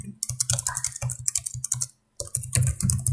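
Rapid bursts of typing on a computer keyboard while a Linux terminal command is entered, close and crisp, with clustered keystrokes, a brief pause, then a denser run of keys.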